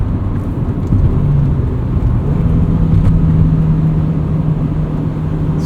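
A 1999 Honda Civic Si (EM1) cruises in fifth gear at about 3,300 RPM and 60 mph, giving a steady in-cabin engine drone with a low hum and road rumble, continuous and fairly loud.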